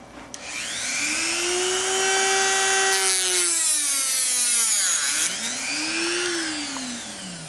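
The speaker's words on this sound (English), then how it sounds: "So what we're going to do is cut it off right here and make this pen about the same length." Plastic pen being cut to length with a rotary power tool, a sustained high whining buzz whose pitch sweeps up and down as the cutter loads and frees, loud and alone.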